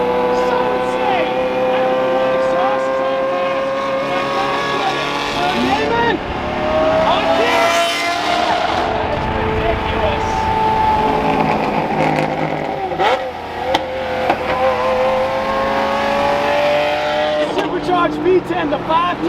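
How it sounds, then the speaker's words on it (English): A loud Mercedes engine drones and roars as the car cruises, heard from inside a following vehicle, with rising and falling revs and occasional voices over it. "That Mercy is so loud."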